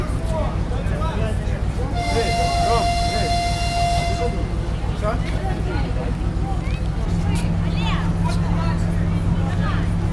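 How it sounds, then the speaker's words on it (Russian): The Rakhiv–Lviv passenger train sounds a long horn toot of about two seconds over a steady rumble, with people chattering nearby throughout. "Це раківський поїзд."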